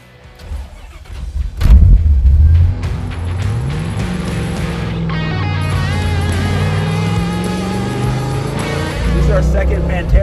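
A 1972 De Tomaso Pantera on the road with occupants riding along, its engine rumbling and rising steadily underneath continuous conversation inside the cabin.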